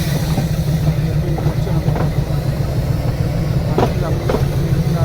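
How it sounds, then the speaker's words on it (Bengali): A train stands at the platform of Udagamandalam station on the Ooty toy train line, its engine idling with a steady low rumble. There are occasional faint clanks, and speech is heard faintly in the background. "এখন যাচ্ছি এই লাইনে, কারণ এই লাইনে একটা ট্রেন দাঁড়িয়ে আছে অলরেডি"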